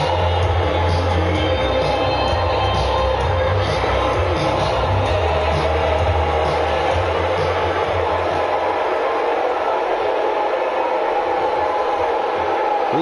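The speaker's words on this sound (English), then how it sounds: "you can hear the crowd. They are on their feet." A dense, steady roar of an arena crowd at a WWE 2K18 wrestling match fills the scene, loud and continuous throughout with no clear breaks.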